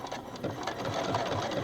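A sewing machine runs steadily, stitching across joined quilt batting scraps, its fast needle chatter continuous and close throughout, with no talk.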